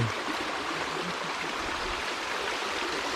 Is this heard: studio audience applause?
no